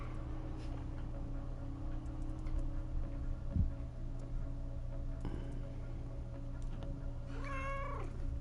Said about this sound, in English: Hey, it's my cat.